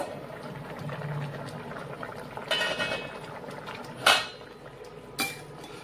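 A metal lid lifts off a pot of simmering Rui fish curry with ridge gourd, potato and pointed gourd, giving two sharp clanks near the end over a steady bubbling boil.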